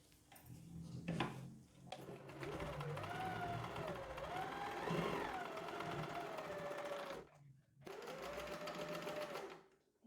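An Usha sewing machine stitches knit banian cloth, a close steady mechanical whir with a varying motor drone that pauses briefly and resumes.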